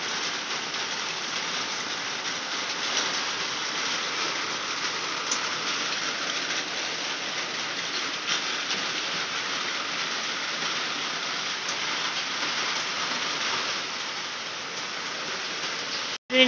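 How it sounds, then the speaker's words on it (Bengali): A continuous, unbroken wash of heavy rain falls hard on nearby surfaces, loud and steady throughout, with a brief knock right at the end. "এখনো বৃষ্টি কমার কোনো নামগন্ধ নেই।"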